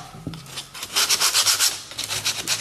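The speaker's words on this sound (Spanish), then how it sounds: "aparte de lijarlo acá, para no ser tanto ruido, vamos a ir sacando todo lo que es los bordes" Sandpaper is rubbed in short, rhythmic back-and-forth strokes along the edges of a wooden piece being prepared for decoupage. The scratching is close and moderately loud, with no talking.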